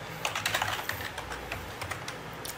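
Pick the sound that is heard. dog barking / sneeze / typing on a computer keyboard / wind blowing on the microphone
typing on a computer keyboard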